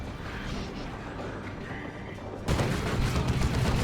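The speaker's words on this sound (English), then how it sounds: "Devastator being shot up by the Plague Champion" Bolter gunfire from the Plague Champion in the Dawn of War 2 game rattles as a rapid stream of shots under battle noise, growing sharply louder and denser partway through.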